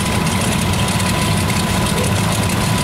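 Small Cub Cadet garden tractors, a 682 and a 482, roll in a parade at the Black Hills Steam & Gas Show, their engines making a continuous loud, close idling rumble with a rough, knocking texture.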